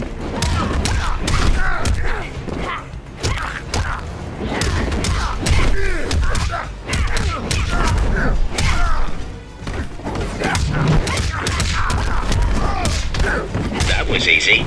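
Mortal Kombat XL fight with Vampiress Mileena in the Endless Tower: rapid punches, kicks and heavy thuds land in dense bursts over game music and effects, loud and continuous throughout.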